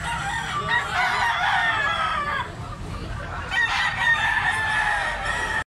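A medium-size black-legged stag rooster crows repeatedly at a noisy cockfighting-bird market in Tabunok, Cebu, its loud calls rising over a steady crowd murmur and a seller's chatter.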